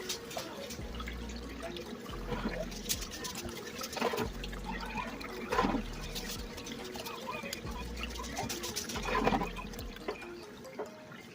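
Water runs steadily through a gold sluice at an excavation site for Wisconsin glacial gold, a continuous wet trickle and splash with drips, close and moderately loud, with occasional louder surges.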